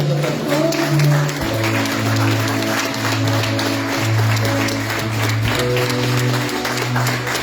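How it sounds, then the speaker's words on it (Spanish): A church congregation applauds during an afternoon service, a steady wash of clapping heard under organ or keyboard music with sustained tones. "den un aplauso a Cristo en esta tarde"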